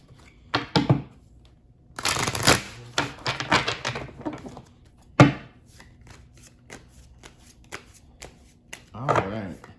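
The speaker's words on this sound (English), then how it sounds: "Let's give it one more good shuffle." A tarot deck is shuffled hard and close by, giving dense papery riffles, sharp card slaps and one loud knock, in uneven bursts, with a brief bit of talking near the end.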